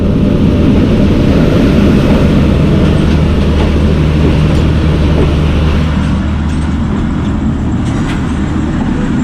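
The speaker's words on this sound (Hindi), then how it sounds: "महर एक्सप्रेस जो है पहले डिपार्ट कर रही है अल्लू वाली स्टेशन से क्रॉस होने के बाद" The Mehr Express, hauled by locomotive 8076, pulls out of Alluwali station in Pakistan after a crossing, giving a loud, steady low rumble of wheels and engine that holds throughout with no voices.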